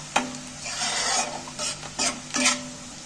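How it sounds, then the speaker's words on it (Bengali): Egg paneer fries in oil in a pan, stirred with a utensil in several brief scraping strokes over a soft sizzle, close and with no speech. "তেলের মধ্যে নাড়াচাড়া করতে করতে অনেকটাই কিন্তু ভাজা ভাজা হয়ে যাচ্ছে"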